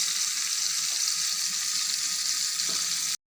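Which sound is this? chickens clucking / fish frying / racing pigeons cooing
fish frying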